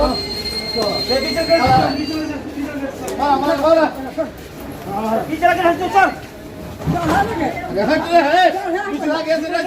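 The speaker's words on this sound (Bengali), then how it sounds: "আমাদের ট্রেন এসে পৌঁছালো কিন্তু শাওড়াফুলি জংশনে" The Jaynagar Express rumbles and squeals along the rails as it pulls into Sheoraphuli Junction, with a crowd chattering loudly throughout.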